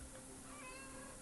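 A pet cat makes a soft, faint chirping meow, barely rising above a constant background hiss.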